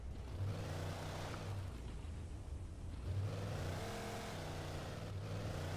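A car is driven and revved in Alan Wake Remastered, its engine a steady close drone rising in pitch twice with no talking over it.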